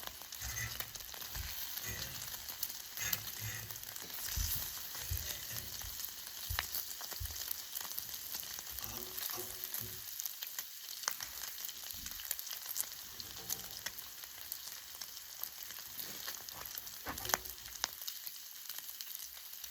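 Bacon frying on a duck blind cooktop, a dense continuous sizzle with crackling pops throughout, steady and close, no talking.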